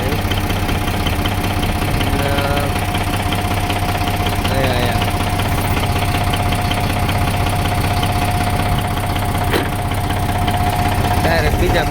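A tractor engine runs loud and close while a field is marked out into cotton rows, making a constant heavy knocking idle. Voices come through faintly beneath the engine.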